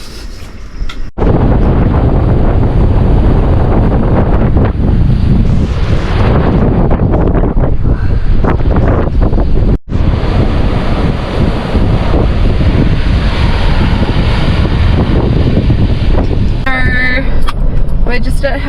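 Strong wind at sea near Hell's Gate off Coral Bay, roaring and buffeting the microphone as a loud, continuous rush with choppy water and boat noise beneath, broken by one brief dropout; voices are heard talking over it.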